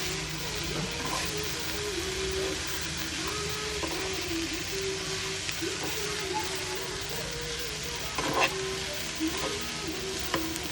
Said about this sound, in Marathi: कसं फ्राय करून घ्यायचा